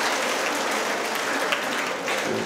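Audience applause during a parish Advent retreat talk, a continuous dense wash of clapping that holds steady at moderate loudness from start to finish, with no voice over it.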